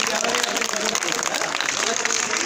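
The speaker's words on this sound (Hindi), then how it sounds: "ताली बजाओ जोरदार इसके लिए।" An audience claps for someone speaker at a school Republic Day event, a dense, lively patter of many hands close by, with a voice talking over the clapping.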